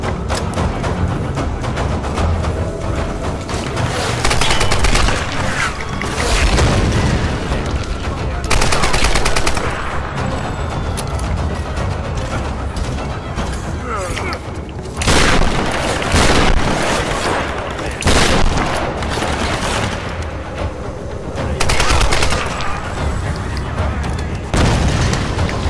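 Enemy gunfire in the video game Tomb Raider: loud machine-gun bursts and heavy booms arrive in repeated waves, with brief lulls between volleys.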